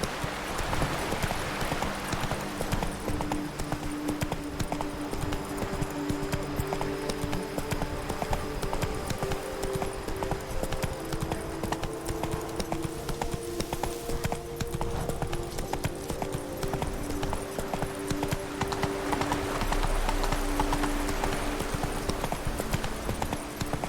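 The horse Roach trots steadily in The Witcher 3: Blood and Wine, its hooves sounding a continuous rhythmic clip-clop over game ambience, with a faint whinny-like tone and no voices.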